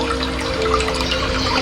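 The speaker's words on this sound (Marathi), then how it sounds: "वांद्रे या ठिकाणी हा मानवनिर्मित धबधबा तयार केलेला आहे" Steady, loud rush of falling water at a man-made waterfall near Wandre on the trail to Bhimashankar, a continuous broadband roar with no talk.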